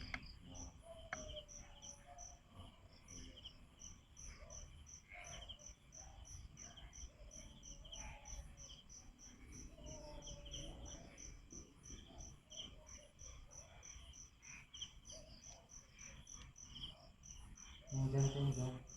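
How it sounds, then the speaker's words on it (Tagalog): Dense chorus of crickets chirping steadily at night in a residential subdivision, a continuous pulsing high trill that fills the whole stretch, with a brief louder low thump near the end. "Puro kuliglig lang."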